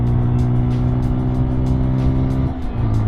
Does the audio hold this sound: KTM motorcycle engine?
yes